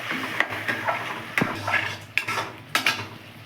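Palak paneer being stirred and sautéed in a pan, with sharp, intermittent scrapes and clinks of a utensil against the metal over a low cooking hiss, close and alone.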